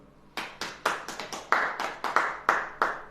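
A church congregation claps hands during a sermon: about a dozen sharp, distinct claps in an uneven rhythm, close and fairly loud, with no talking.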